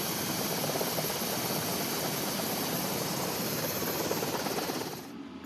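A loud, steady helicopter roar with whirring rotor noise on a DDG-51 destroyer's flight deck at sea, close by and continuous, easing off slightly in the final moment.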